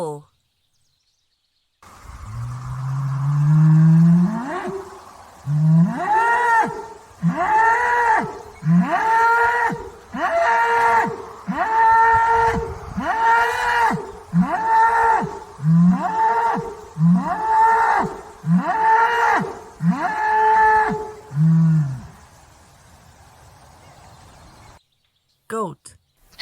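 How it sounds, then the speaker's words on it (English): A bull moos in a long run of about fifteen loud, close, evenly spaced bellowing calls. A deeper drawn-out call opens the sequence. "Bull."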